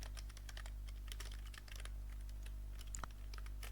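Student names are typed on a computer keyboard in Microsoft Excel, giving steady quick key clicks with small pauses over a faint constant hum, with no voices.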